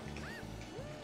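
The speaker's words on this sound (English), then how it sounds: "Nope, duck. Duck ruins your day." A cartoonish duck quacks twice in Mario Kart: Double Dash, short nasal calls over the game's music and background effects.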